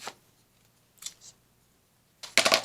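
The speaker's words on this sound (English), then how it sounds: "So I'll cut a piece of it" Scissors cut a piece of blue paper for a collage in a quiet room: a couple of short soft snips, then a louder, longer crisp cut at the end.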